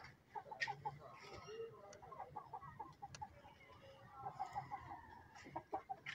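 Aseel chickens cluck and chatter in quick bursts at a moderate distance, with faint voices murmuring in the background.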